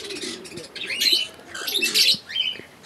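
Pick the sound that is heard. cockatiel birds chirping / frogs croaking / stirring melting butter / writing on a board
cockatiel birds chirping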